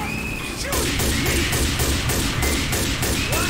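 Dense gunfire in Left 4 Dead 2 as survivors shoot down the Witch, a loud continuous fusillade of rapid cracks and thumps that swells after a brief opening and holds steady to the end.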